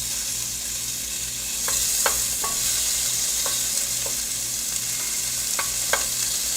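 Chunks of lamb sear in a hot pan for stew, a loud continuous sizzle and fry broken by several sharp scraping clicks as the pieces are stirred and turned, with no speech.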